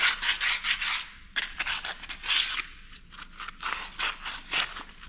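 Steady back-and-forth rubbing on a Detroit 2-53 engine part while it is cleaned, a close, dry abrasive scrubbing in repeated strokes with short pauses between bursts.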